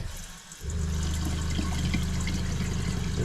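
Hot water rushes through the plumbing line of a toy hauler during winterizing, a loud steady gushing flow that starts abruptly after a brief quieter moment, with no talk.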